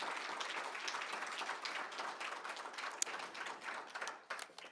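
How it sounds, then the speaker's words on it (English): An audience at a summer institute demo day applauds the mentors with soft, dense clapping from a crowd, heard at a distance and fairly faint, lasting the whole stretch and thinning slightly at the end. "Please, a round of applause for them."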